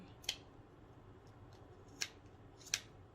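Fabric scissors that tend to lock, cutting material in three crisp, separate snips spaced out over a few seconds, close and clear against a quiet background.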